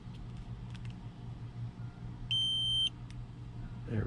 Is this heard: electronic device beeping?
yes